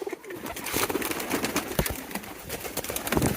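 Pigeons coo softly while being fed grain, with scattered pecking, wing flutters and clicks close by throughout.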